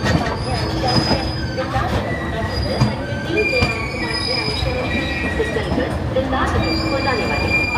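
The Amrit Bharat Express pulls into Pandit Deen Dayal Upadhyay Junction in Uttar Pradesh. It is a loud, close rumble of a train with squealing wheels, rattling carriages and metallic clatter throughout.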